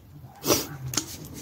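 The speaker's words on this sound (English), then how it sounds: "You guys are wondering whose crazy dog is outside barking, not shutting up." A dog barks outside, two short muffled barks at a moderate distance with quiet room noise around them.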